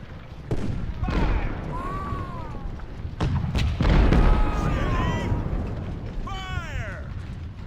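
Civil War cannon fire at Malvern Hill in the Ultimate General strategy game, with several heavy booms and thuds spaced across the scene amid battle din and faint shouting.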